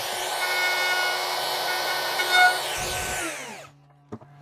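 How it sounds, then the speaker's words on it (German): A random orbital sander runs on a wooden BBQ cutting board with 180-grit paper, a steady, close whirring hum with a gritty sanding rasp that winds down and stops near the end, leaving faint clicks. "Zum Schleifen nehmen wir einen Exzenter."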